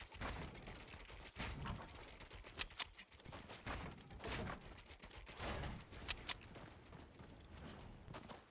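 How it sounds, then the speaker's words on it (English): Gunfire in the video game Fortnite, with bursts of sharp shots and clattering footstep sounds in quick irregular rhythm, fairly quiet and continuous over the whole stretch. "Gunfire, of course."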